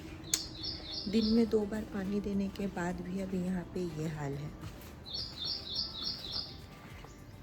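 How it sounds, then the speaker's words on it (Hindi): Bright, high bird chirps come in quick bursts at the start and again near the end, with a person talking steadily through the middle. "आपको ये चिड़ियों की चहक सुनाई दे रही है कि नहीं पता नहीं"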